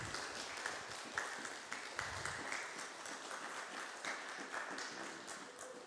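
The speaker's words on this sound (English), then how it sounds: "If we can have a big round of applause for our panelists." An audience applauds panelists after a film screening at a community venue, with steady, fairly quiet clapping from many hands that continues for several seconds at a moderate distance.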